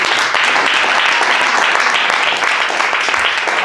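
A church congregation breaks into steady, dense applause that fills the room for several seconds without pause.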